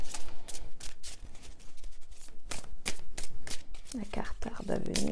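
Oracle cards being shuffled by hand during a card reading, a run of quick papery riffles and slaps repeating throughout, close and fairly loud, with a voice briefly audible near the end.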